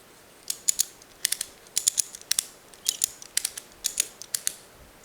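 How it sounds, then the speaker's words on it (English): Ratchet straps being cranked tight to clamp a glued, epoxied mortise-and-tenon joint on a broken dining table bench, giving quick, crisp clicking bursts in an uneven rhythm, close and fairly quiet, with no talking. "use my straps to hold it together while it cures"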